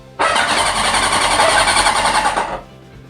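The starter of a 1972 Honda Four 750 dry-sump motorcycle engine cranks it in one loud, close, steady whirring burst of about two and a half seconds, then cuts off.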